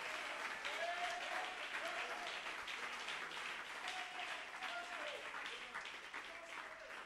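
A congregation applauding at a church gathering in Enugu, with continuous dense clapping from a large crowd and faint voices and a few shouts mixed in.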